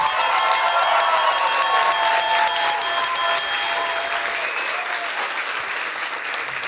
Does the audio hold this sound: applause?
yes